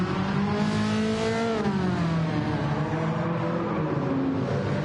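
A race car's engine in Gran Turismo 7 on PS5 revs loudly and continuously, its pitch climbing and dipping as the car accelerates, with no voices over it.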